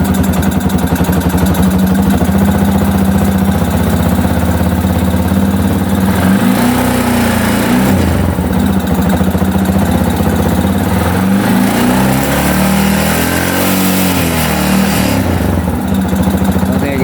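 A Yamaha XTZ 250 motorcycle engine runs loud and close for the whole stretch, its pitch rising and falling as it revs up toward 5000 RPM and settles back several times.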